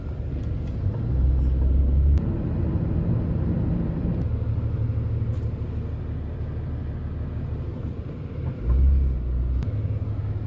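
Steady low engine rumble of a car driving on the road toward Lulu mall, with two louder surges of engine and road noise, no talk.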